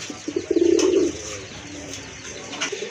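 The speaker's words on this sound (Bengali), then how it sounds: "এখানে কিন্তু খুবই সুন্দর এক জোড়া কবুতর, শর্ট ফেস কবুতর।" A pair of short-face pigeons coo in a short burst near the start, soft and close, then quieter rustling and faint chirps with no talk.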